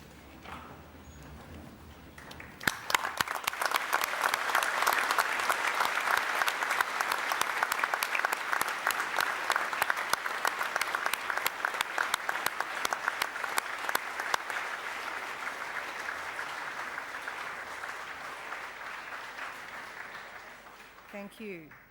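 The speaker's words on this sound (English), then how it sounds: "join me in a round of applause to say thank you to those who've helped you achieve your award" A graduation ceremony audience breaks into sustained applause, many hands clapping loudly and evenly for nearly twenty seconds before fading out, with some talk just before it starts.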